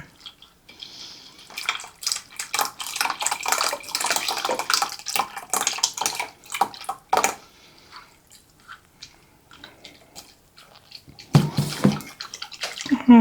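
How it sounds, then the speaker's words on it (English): Orange juice concentrate, six ounces of it, pours and splashes into a lemon jello mixture for a mandarin orange salad, a wet liquid stream at close range that runs for several seconds, pauses, then ends with a final thicker glug. "now then I'm going to add in some orange juice concentrate, and this is 6 ounces of it"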